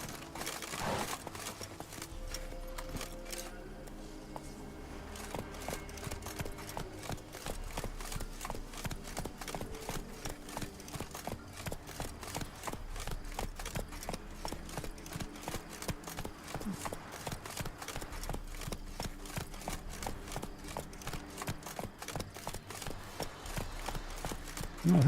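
Horse hooves in The Witcher 3 video game, a rapid, regular clip-clop of galloping hooves that keeps up the whole way, loud and close over a low game soundscape.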